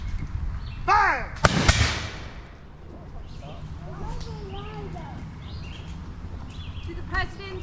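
A section fires a musket volley at a historical firing demonstration: a single sharp, loud crack that fades quickly, with birds chirping, voices and faint outdoor bustle around it.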